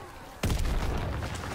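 A grenade explodes in Call of Duty WWII Zombies, a sudden loud blast that cuts in after a quiet stretch and rolls into a sustained roar of game noise and crackling debris.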